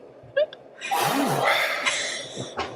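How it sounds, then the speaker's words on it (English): A deep breath drawn in mid-conversation, a broad airy rush of inhaled air lasting over a second, close and fairly loud, preceded by a brief vocal sound and without spoken words. "I just got to take a breath."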